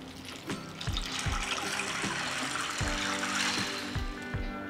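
Cold tap water running into a bowl of 500 g of mixed beans, a steady close splashing stream with occasional knocks of the bowl.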